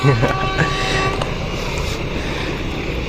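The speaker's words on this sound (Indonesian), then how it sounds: "udah dapat satu kereta Pandalungan yang melintas di stasiun Malasan" Pandalungan passenger train passing through Malasan station, a loud close rumble with a brief horn-like tone at the start, then a steady broad roar of rail cars continuing throughout.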